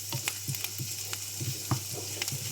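Garlic fries until brown for garlic rice, giving a close, steady sizzle broken by sharp crackles and little pops at an irregular rhythm, with no talking.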